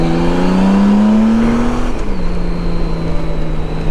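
A 2014 Honda Goldwing touring motorcycle with an 1850 cc engine, ridden along as its smooth engine hum rises in pitch, then drops and settles into a steady drone with wind, loud and close, no talk.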